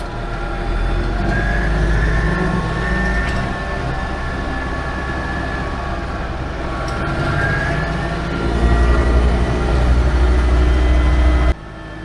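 An Invacar three-wheeled car on a bouncy, shaky ride, with a steady loud rumbling engine and road drone that swells slightly toward the end, then cuts off abruptly.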